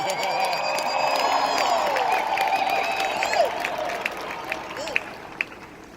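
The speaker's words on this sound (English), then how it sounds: "Thank you for the applause." Crowd applause mixed with cheers and whoops, loud at first and gradually thinning out into scattered claps near the end.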